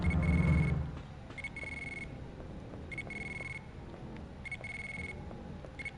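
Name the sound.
pager beeping in Dino Crisis video game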